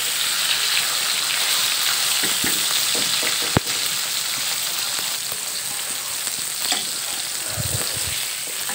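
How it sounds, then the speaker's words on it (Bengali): Pieces of katla fish fry in hot oil in a kadai for a Bengali kalia with potatoes, a steady dense sizzle throughout with a sharp clack partway and occasional stirring noises. "এই যে দেখো 2 পাট লাল লাল করে সুন্দরভাবে ভেজে নিয়েছি।"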